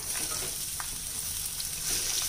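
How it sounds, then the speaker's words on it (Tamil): Chopped onions and chillies sizzling in oil in a pan for chutney, a steady bright frying hiss with faint stirring, close and continuous. "இப்போ நம்ம நறுக்கி வச்சுருக்க வெங்காயம் சேர்த்துடலாங்க."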